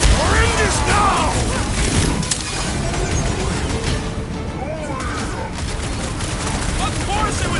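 Sniper fire in the Guardians of the Galaxy video game: loud, dense bursts of shots and impacts in a chaotic firefight, with shouting voices heard over the din.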